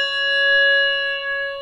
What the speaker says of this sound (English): In a tower swing, the bell is struck,